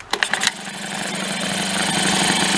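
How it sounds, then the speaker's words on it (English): A broken yard-sale Mercury outboard motor fires up after a few quick pulls, then settles into a loud, steady idle with throttle all the way down, running on unevenly and growing slightly rougher. "Go fire it back up again."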